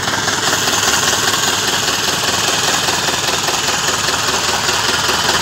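A 1954 Minneapolis-Moline tractor engine idles close and loud, with a steady, even rumble and a faint knock that runs unbroken throughout, with no talk.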